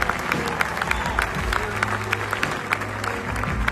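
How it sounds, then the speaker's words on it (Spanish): Church congregation applauding, a full crowd clapping steadily with scattered cheers in a large room, close and fairly loud. "Un aplauso al Señor Jesús, por favor. El más fuerte que pueda."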